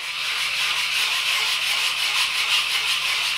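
Continuous hand sanding of a foam model airplane with a sanding block, a rhythmic back-and-forth rubbing scrape that stays close and fairly loud throughout.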